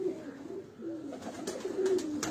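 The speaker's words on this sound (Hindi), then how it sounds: "ये उनके ये जो ब्रीडर कबूतर हैं हम आपको दिखा रहे हैं" Breeder pigeons coo softly in a loft, low rolling calls repeating a few times at moderate distance over quiet background rustle.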